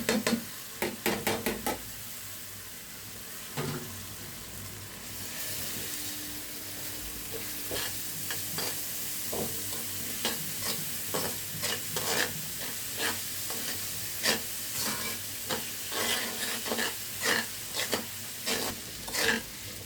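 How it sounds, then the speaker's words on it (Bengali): Washed rice for beef haleem is stirred and sautéed in a pot, giving a soft continuous sizzle broken by repeated close scrapes and knocks of the spoon against the pan, with no voices. "আমি একটু চালটা কষিয়ে নিলাম।"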